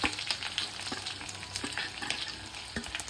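Two large sliced onions frying in oil with browned chana dal for Tamil-style potato masala, a steady dense sizzle with light stirring scrapes throughout, close up.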